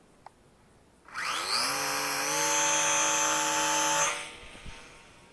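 The electric motor of an Eachine Mini F4U Corsair RC warbird with gyro spins up sharply at launch into a steady, high-pitched whine that holds for about three seconds, then drops away to near silence.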